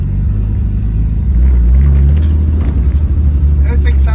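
A Nissan R33 Skyline on semi-slick tyres drives along, its engine giving a steady, loud low rumble that swells slightly as it pulls, with some rattling in the cabin.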